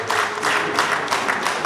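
An audience claps together in a short, dense burst of applause that holds steady without a break.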